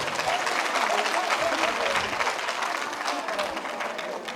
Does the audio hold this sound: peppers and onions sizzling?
no